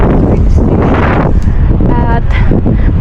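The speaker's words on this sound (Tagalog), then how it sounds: "Mahangin." Gusty wind buffets the microphone on a train station platform, a dense low rumble throughout with rustling bursts, and faint sounds of someone nearby mixed in.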